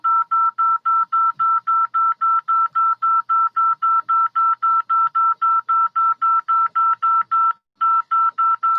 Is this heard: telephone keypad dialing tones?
yes